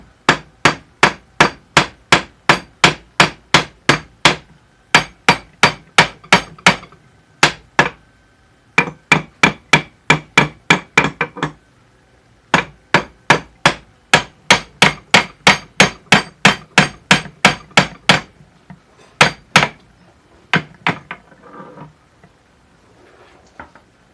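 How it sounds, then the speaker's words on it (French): A hammer strikes metal again and again while forging a small Mjolnir pendant, sharp ringing blows in fast even bursts with short pauses between runs, loud and close, fading to lighter taps at the end. "on va tout simplement venir frapper avec un angle d'un côté, ensuite on va venir de l'autre"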